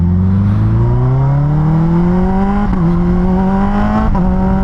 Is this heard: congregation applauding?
no